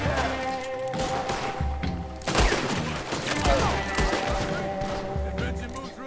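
Rapid gunfire from a Red Dead Redemption 2 Wild West shootout, with dense, sustained volleys and heavy thuds that carry on continuously over game music.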